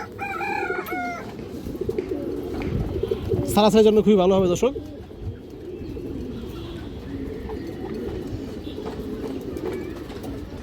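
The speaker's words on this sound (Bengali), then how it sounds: "খুবই চঞ্চল একটা কবুতর" Pigeons in a domestic loft, including an old bloodline of black-winged, lively birds, coo and call in a burst of bird sounds while someone talks over them nearby.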